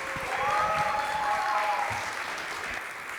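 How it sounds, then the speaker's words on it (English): An audience applauds panelists at a conference, a steady wash of clapping with a faint whistle-like tone running through it, sustained for a few seconds without talk. "Please give a big round of applause for today's panelists."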